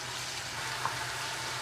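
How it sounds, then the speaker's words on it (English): Thin beef steaks frying in coconut oil in a pan, a faint steady sizzle with a soft hiss and no voices over it. "I'm just frying that down in some coconut oil"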